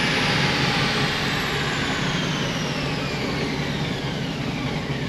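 A Whipple-supercharged fifth-generation Chevrolet Camaro engine running hard on a dyno, a loud dense roar near its peak with a whine sweeping downward as the revs fall, no talking.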